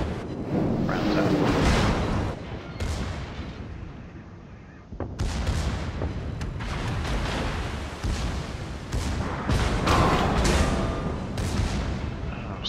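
Naval gunfire in a warship video game, the Wyoming battleship's shells striking a ship: a dense, continuous run of heavy booms and rumbling blasts with a short lull near the middle, loud and close, under faint talk.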